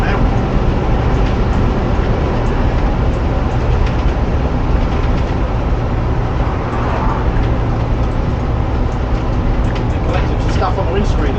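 Onboard a Bedford YMT coach with Duple Dominant II bodywork while driving, a steady loud engine and road drone running throughout with rattles and cabin noise, and voices talking over it.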